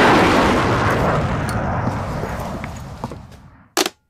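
A loud explosion destroys the Imperial Senate building, opening with a heavy broadband blast that rumbles and slowly decays, scattered debris thuds trailing off, then a sharp second burst near the end.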